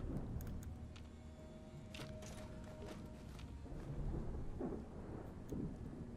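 A modded radstorm in the game Fallout 4 rolls overhead, with heavy rain hissing steadily while thunder cracks and rumbles in several bursts, loud and close.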